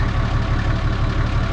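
Off-road vehicle engine running in second gear on a night rock-crawling trail, a loud, close, continuous low throbbing rumble held steady throughout.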